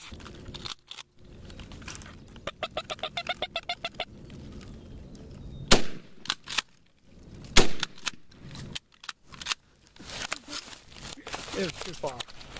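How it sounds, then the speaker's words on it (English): A hunting gunshot fired at a turkey (a bearded jake) outdoors, a sharp loud crack standing out among rustling, handling noises and people talking before and after. "I shot a turkey."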